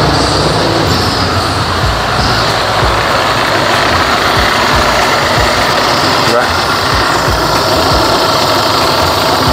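Engine running steadily at idle after an idle problem was fixed, a loud continuous rumble with a slightly uneven throb and no talking.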